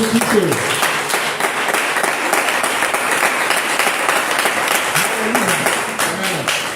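A church congregation applauding Jesus, with dense, sustained clapping from a large crowd that stays loud and even throughout, with voices mixed in the wash of applause.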